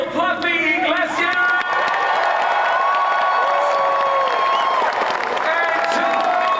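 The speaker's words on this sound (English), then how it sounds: "Can we please get a round of applause for Gabriel Fluffy Iglesias" A large audience at San Diego Comic-Con 2025 claps and cheers loudly, with whoops and shouted voices rising over sustained applause throughout.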